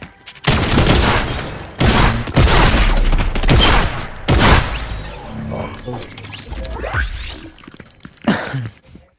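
Gunfire rings out in the Fortnite video game: loud, close bursts of rapid shots with sharp cracks, separated by short gaps, then thinner and scattered shots toward the end, with some voices faintly mixed in.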